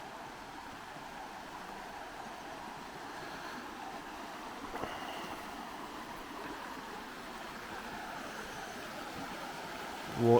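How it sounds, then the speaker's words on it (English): Fast-flowing water of the River Derwent rushes steadily on an evening riverside walk, a continuous broadband wash with faint wind, holding even throughout with a small bump midway and a brief louder knock at the very end. "Water's run through pretty quick there."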